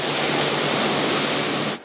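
A bank of 17 car wash air dryers, 250 horsepower in total, roars steadily in a drying room, a loud, continuous broadband rush of blown air that cuts off abruptly at the end.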